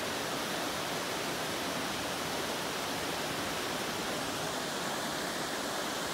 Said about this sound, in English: There is Lodore Falls.